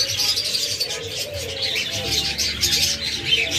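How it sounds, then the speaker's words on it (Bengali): Caged pet doves of various color mutations chirp and coo steadily, a busy close chorus of bird calls with soft fluttering behind it, no talking. "আমাদের কাছে সকল কালারেরই ঘুঘু পাখি রয়েছে, সকল মিউটেশনের"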